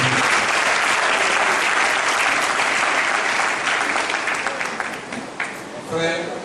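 A church congregation applauds loudly and steadily, a dense wash of clapping that holds for several seconds before thinning and fading toward the end.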